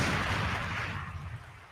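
Radio-show sound effect of a gunshot and bomb, a single loud booming burst that rumbles and fades away over a second or two, with no talking.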